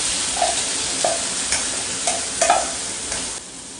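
A spoon scrapes through a frying minced meat filling with carrots and potatoes in a pan, a few distinct stirring strokes over a steady close sizzle.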